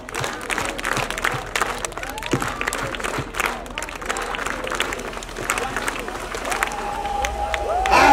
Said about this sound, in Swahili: Nataka tupige makofi 5 4 3 2 1.